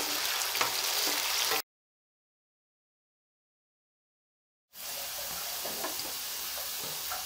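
Potatoes frying in a pan for a mixed vegetable sabzi give a steady, close sizzling hiss, broken by a few seconds of complete silence in the middle before the frying resumes.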